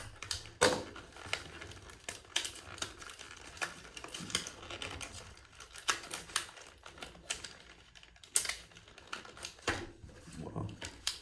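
A knife slicing cardboard packaging on a Redline Club car box, delivered as a string of short, uneven scratchy cuts and taps with quiet pauses, faint talk in places.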